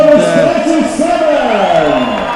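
Rugby league crowd at Craven Park, Hull Kingston Rovers against Whitehaven, loud shouts and whoops from a modest stadium audience, with people talking close by throughout.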